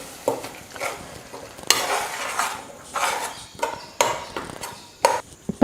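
Ground tomato paste sautéed with onions in oil for a meat curry, a soft sizzle broken by repeated scrapes and clinks of a spoon stirring against the pan.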